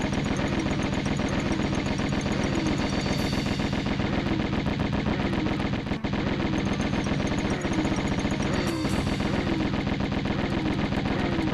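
Twin Uzis from the Tomb Raider video game fire in a sustained, rapid, loud stream of automatic shots with a brief pause near the middle, dense and continuous throughout with no talking.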